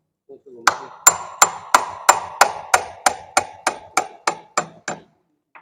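A tool strikes the tumbler gear lever of a lathe machine, giving about a dozen loud, evenly spaced knocks. The metallic blows fall in a steady rhythm and fade slightly toward the end.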